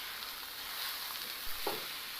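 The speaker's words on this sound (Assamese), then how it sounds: "অলপ সময়ৰ কাৰণে লৰাই ভাজি থাকিম" Drumstick flowers stir-fried with duck egg and salt make a soft, faint sizzle, with a spatula scraping the pan once or twice near the end.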